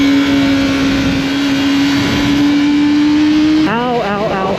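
Kawasaki ZX25R motorcycle engine holding a steady high-pitched whine while riding, then revving up and down in rising and falling sweeps near the end, loud and close over wind noise.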